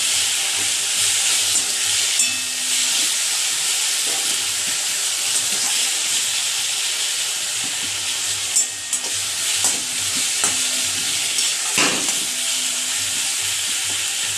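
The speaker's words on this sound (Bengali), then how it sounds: "হলুদ দিয়ে দেব, দিয়ে একটু শাকটা ভাজা ভাজা করে নিই" Jute leaves frying with turmeric in a pan, sending up a loud, continuous bright sizzle with occasional stirring scrapes.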